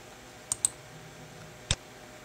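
A computer mouse clicks a few times while someone updates eBay listings: two quick close clicks and then a single click a moment later, faint and sharp in a quiet room.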